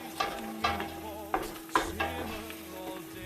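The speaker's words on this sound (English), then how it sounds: "I'll just give them a quick stir" Microplaned garlic and chilies sizzle softly in a pan while a utensil stirs them, with a few distinct scraping taps against the pan over a low steady frying hiss, close and fairly quiet.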